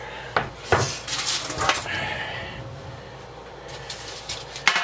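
A metal baking pan for Italian bread is shifted into place with several sharp clanks and scrapes against other kitchen items, close and fairly loud, with short knocks early and late and softer rattling between.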